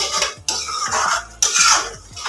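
Masala is roasted in a pan and stirred with a metal spoon, giving repeated close scraping and clinking strokes against the pan in an uneven rhythm, loud and without talk.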